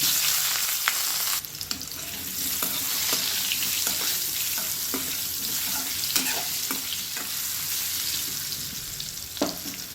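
Boiled elephant foot yam pieces frying in oil with popped mustard seeds and curry leaves, a loud steady sizzle punctuated by repeated stirring clatters and crackles, no speech.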